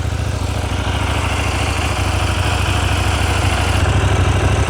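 A new 2026 CFMoto 800MT-X motorcycle idling, a steady, loud, close throbbing engine note with an even low pulse and no revving, running alone without voices.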